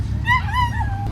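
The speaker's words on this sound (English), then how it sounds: "The dogs are communicating." A dog lets out a drawn-out whining yip with rising and falling pitch, close by over a steady low hum of engines at an outdoor car and motorbike gathering.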